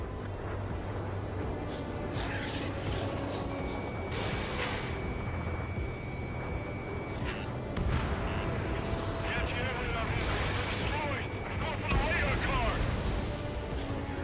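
Anti-air guns firing in the combat flight game Ace Combat 7: Skies Unknown, a dense continuous rumble of heavy booming fire layered with jet and engine roar, loud and unbroken throughout, with radio voices talking over it.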